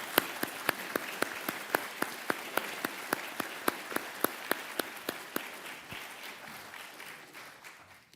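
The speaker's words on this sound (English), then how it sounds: "And let's give a round of applause to our panelists." An audience at a naval institute annual meeting applauds its panelists, with a few sharp distinct claps in a steady rhythm over a softer wash of clapping that fades toward the end.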